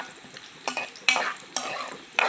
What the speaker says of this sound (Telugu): ఇలా సిమ్లో వేయించుకోండి చూసారా ఫ్రెండ్స్ ఎలా వేగాయో